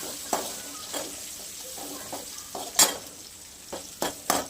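Chopped green chillies stirred in a hot pan for soya chilli manchurian, a soft crackling sizzle broken by a series of sharp spatula scrapes and taps against the pan, with no talk.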